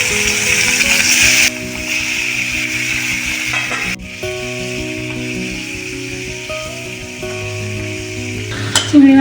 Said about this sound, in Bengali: চিংড়ি মাছগুলো একটু এপিট ওপিট করে ভেজে নেবো